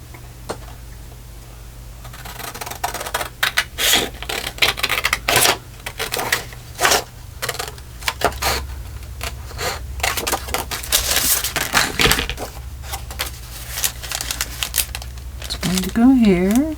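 Scissors snip through paper for an altered book, with a series of sharp irregular cuts and rustles near the microphone, mixed with a person talking.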